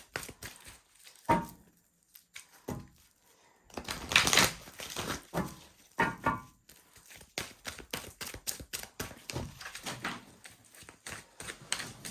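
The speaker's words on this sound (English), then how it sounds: "I got to shuffle these cards really good first." Tarot cards shuffled with repeated riffling and soft slapping clicks in irregular bursts, close and quiet, with no talking.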